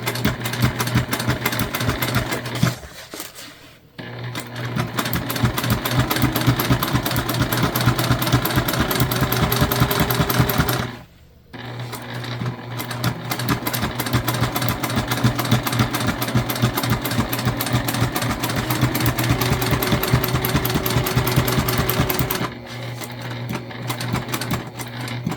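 A sewing machine runs top stitching along a fabric gift bag, a loud, rapid steady whir in three long runs separated by brief pauses, with no talk.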